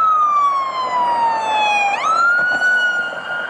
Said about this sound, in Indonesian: Ada mobil pemadam kebakaran yang membawa tangga darurat.